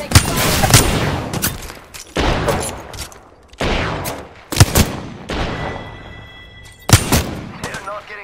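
Rapid automatic gunfire bursts from the video game Apex Legends, several loud volleys separated by short pauses, with players talking over the shooting.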